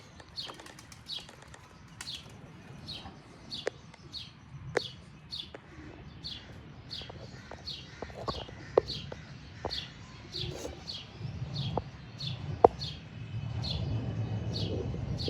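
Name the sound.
pet pigeons flapping wings and cooing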